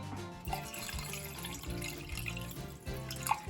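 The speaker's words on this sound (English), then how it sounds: "I'm gonna pour some down the spout" Cool water pours steadily down the spout of a stovetop coffee pot with a soft trickling splash, a faint drip standing out near the end, all fairly quiet and close.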